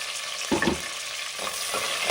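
Long-sliced onion frying for drumstick pulao, a soft continuous sizzle broken by a couple of spatula stirs and scrapes in the pan.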